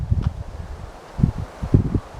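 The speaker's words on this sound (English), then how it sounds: "So it's a little windy." Gusts of wind on an inland hiking trail buffet the microphone in low bursts, with a quieter rustling background between them.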